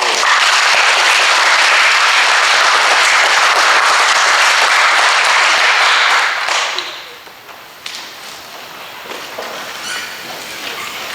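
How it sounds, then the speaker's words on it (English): Dense, loud applause from a school audience for students recognised as safe, respectful and responsible, sustained for about six seconds before dropping off to a few scattered claps and quiet room noise. "Please give these people a round of applause."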